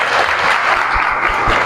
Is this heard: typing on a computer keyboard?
no